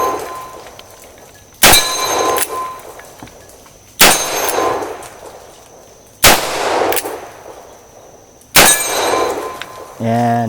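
A Cimarron single action .45 Colt revolver fires four loud, well-spaced shots at steel plates, each sharp crack followed by a ringing clang and a decaying echo.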